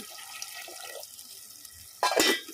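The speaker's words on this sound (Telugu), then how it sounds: "నీళ్ళు కూడా పోస్తున్నాను" Water poured into a clay cooking pot for a small-fish curry, a short loud splashing gush arriving near the end after a quiet stretch of faint kitchen background.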